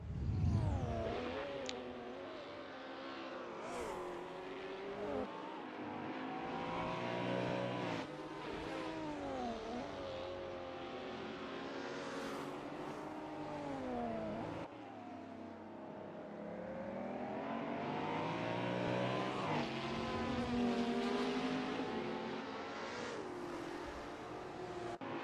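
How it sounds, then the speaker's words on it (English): Holden, Jaguar and Nissan touring race cars approach turn 6 at Sandown, their engines overlapping in a steady, rising and falling roar with shifting pitch and revving through the whole stretch. "Three very distinct sounds, a Holden, a Jaguar and Nissan as they come up to turn 6"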